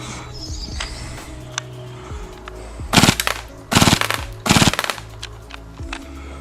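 A Vorsk VMP-1X gas blowback airsoft SMG fires full auto in three short, sharp bursts of rapid clattering shots. Each burst lasts about half a second, and a faint hum sits between them.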